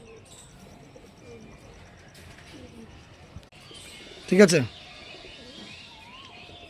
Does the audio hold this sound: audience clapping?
no